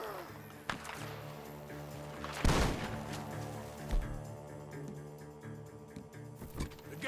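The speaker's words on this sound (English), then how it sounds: "The gunshots are coming from that barn." Gunfire from a barn in Red Dead Redemption 2, with a few sharp shots cracking out over a constant layer of game ambience and music, one heavy blast standing out early and others spread across the stretch.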